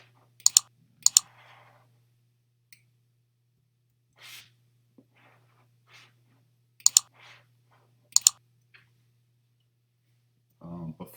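A handful of sharp, isolated clicks from computer keyboard keys, spaced irregularly with long quiet gaps, entering a username at a login prompt.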